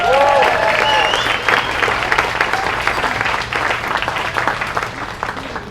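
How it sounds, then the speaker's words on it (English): A crowd at a fencing gala gives loud, dense applause for the fencing students, a sustained wash of clapping with some crowd voices mixed in. "How about a little applause for all our students?"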